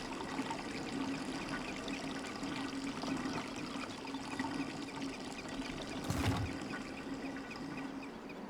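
Water flowing in the puzzle game Riven, a soft continuous trickling pour with a steady low hum beneath and one brief louder splash-like burst near the end, no voices.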